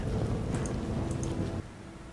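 Steady rain in The Witcher video game, a dense, continuous wash of falling rain that drops slightly in level near the end, with no talking.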